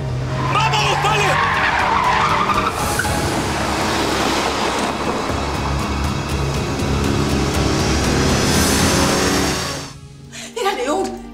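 A car accelerates hard during a chase, its engine roaring and tyres screeching loudly for several seconds, with excited shouting mixed in before the noise drops away near the end.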